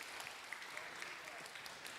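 A church congregation at a Tuesday evening worship service claps together in a brief, steady, dense round of applause that sounds somewhat distant.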